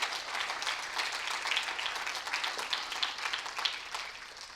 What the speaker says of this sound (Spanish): Si usted va a aplaudir, apláudale de verdad al Señor.